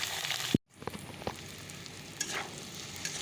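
Vegetables, potatoes and pointed gourd for a Bengali curry, frying in a pan with a steady soft sizzle and occasional stirring scrapes after a brief sharp clatter near the start.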